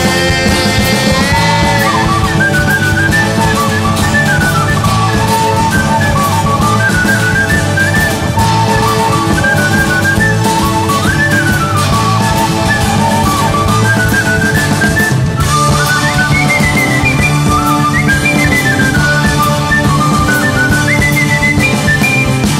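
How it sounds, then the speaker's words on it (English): Melodic whistling carries the tune of a song, sustained and prominent over a full band backing with steady bass and drums throughout. "Get ready for the whistle. I'll whistle along on the seventh day."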